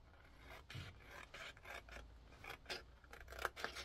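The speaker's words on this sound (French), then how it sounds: "Et maintenant, on va couper." Paper cut with scissors for a scrapbooking project, a series of short rasping snips in an irregular rhythm, faint and close.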